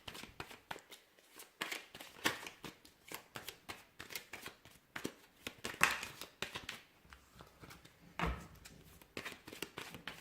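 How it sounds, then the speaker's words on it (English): Tarot cards are shuffled by hand in a long run of quick riffling and slapping bursts, close and crisp, repeating irregularly with short pauses. "So we'll give the cards a shuffle here"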